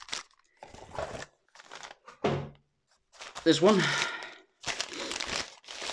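Paper crinkles and rustles in short bursts as something wrapped is opened, close by, with a person speaking briefly in between.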